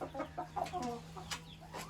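Bantam hens and other chickens cluck softly and irregularly at a farmyard flock, several short calls overlapping against a steady low hum.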